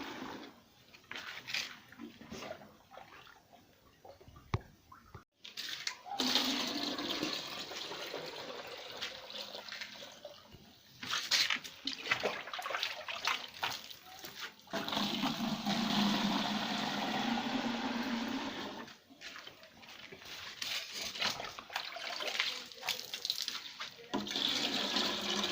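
Water pours into a garden basin in a steady hiss, rising and falling in close, sustained stretches with a few short breaks.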